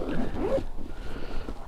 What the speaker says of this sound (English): unzip that